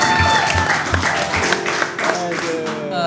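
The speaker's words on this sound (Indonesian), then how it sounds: "Tepuk tangan buat Warkop." Studio audience applause on a talk show, a few seconds of clapping with some louder taps near the start, mixed with laughter and voices.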